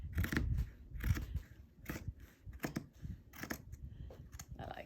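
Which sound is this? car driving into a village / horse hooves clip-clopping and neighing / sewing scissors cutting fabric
sewing scissors cutting fabric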